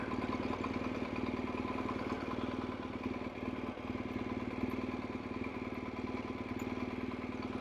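A BMW R1200GS motorcycle engine idles with a low, rough, steady chug, loud and close, its rhythm sagging and nearly stalling about midway before recovering.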